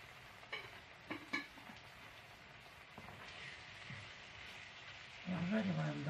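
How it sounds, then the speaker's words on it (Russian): Ingredients for Kuban borscht fry in a pan, a soft hiss with occasional clicks of stirring that swells into a louder sizzle near the end, while a person talks. "И обжариваем дальше."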